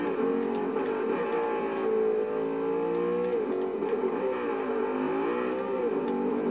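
A sports car engine in Forza Horizon 2 roars continuously at high revs, its pitch rising and falling as it accelerates, loud and close throughout.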